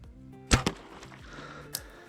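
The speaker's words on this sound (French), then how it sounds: "Ma flèche va passer juste au-dessus de son dos" A sharp arrow release from a hunting bow at a coypu and swift whoosh, followed moments later by a fainter second snap, over quiet outdoor background.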